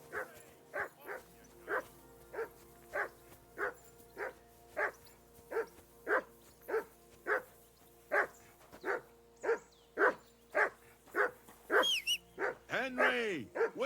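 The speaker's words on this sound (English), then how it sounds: "Whistle at that mutt of yours to stop barking!" A dog in the medieval game Kingdom Come: Deliverance II barks repeatedly in a steady, evenly spaced rhythm, close and loud, with a few higher yips near the end.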